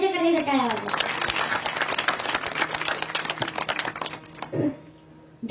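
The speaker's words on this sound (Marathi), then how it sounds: "त्याच्याकडे टाळ्या वाजवा" Audience applause at a children's kirtan performance, a burst of many hands clapping that follows a speaking voice, swells, then thins out before the voice returns near the end.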